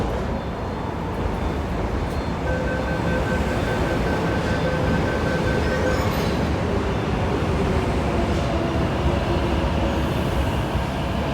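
An MTR C-train running through Ngau Tau Kok Station on Hong Kong's metro makes a steady, loud rumble with rail noise and faint tonal whines, continuous for the whole stretch with no talking.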